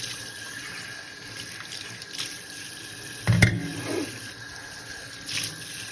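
Tap water rinsing out a coffee machine part, a steady faint hiss of running water with a brief louder splash midway and softer trickles after.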